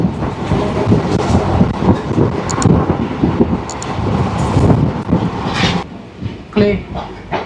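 A train pulls into a station at night, its heavy rolling rumble and clanking carriages steady and close throughout, with a few brief squeals and a louder surge near the end under general platform noise.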